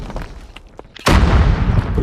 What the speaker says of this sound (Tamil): Bang grenade.